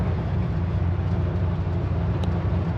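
Exhaust drone from a 1986 Chevy C10 shortbed pickup cruising down the road, a steady low rumble with road noise and no pauses, close and even throughout.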